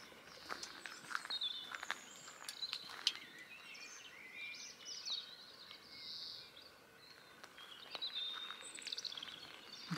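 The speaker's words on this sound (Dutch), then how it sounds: "De vogeltjes zijn in ieder geval al wakker." Small birds chirp and twitter at a quiet early-morning minicamping near Oostkapelle, scattered bright calls over the whole stretch, with soft footsteps crunching close by.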